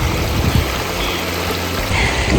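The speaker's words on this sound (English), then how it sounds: "I just stopped here in this rushing creek and wet my sun shirt to cool me off." A rushing creek on a trail near Lake Tahoe pours steadily over rocks, a dense close-up wash of water with no pauses and no voices.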